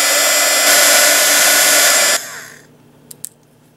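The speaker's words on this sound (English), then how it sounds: "Hold your heat tool about 5 inches off the surface." A heat tool blows hot air over a craft jewelry piece from about five inches away: a loud, steady rushing roar for about two seconds, which then shuts off and fades, followed by a couple of small clicks.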